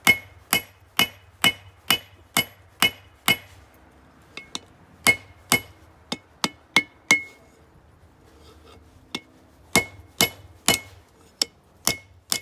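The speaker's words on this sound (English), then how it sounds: "we're going to do half blows over the edge of the anvil here" Hammer half blows over the edge of an anvil while forging mild steel wolf jaw tongs: sharp, ringing metallic strikes in a steady rhythm, loud and close, with a brief irregular stretch of lighter taps midway.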